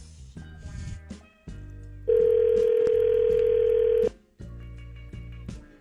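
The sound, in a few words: telephone dial tone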